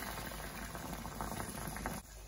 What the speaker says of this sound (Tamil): இப்போ வந்து தண்ணி வந்து நல்லா கொதிக்க விட்டுருக்கேன்